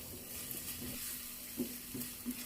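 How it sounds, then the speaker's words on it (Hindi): Quiet, steady sizzling of garlic ginger paste frying in a little oil over low heat, with soft stirring scrapes and light taps of a spoon in the pan. "अब हम इसमें 1 चम्मच लहसुन अदरक पेस्ट डालेंगे और इसे हल्की आंच पे फ्राई करेंगे।"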